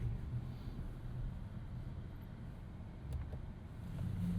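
A Volvo XC90 T8 plug-in hybrid SUV backing slowly into a parking spot beside an XC40, a steady low interior rumble of road and engine noise that swells slightly toward the end, with no talking.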